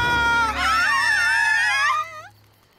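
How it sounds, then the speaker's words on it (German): A cartoon girl lets out a loud, high, wavering scream that bends in pitch for about two seconds, then breaks off into a brief fading whimper. "Betty Sue schreit."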